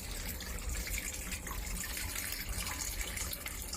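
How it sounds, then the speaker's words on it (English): Water overflows into a barrel during an aquarium water change, a soft, continuous splashing trickle heard faintly and steadily without a break. "I think I can hear the overflow starting in this barrel now"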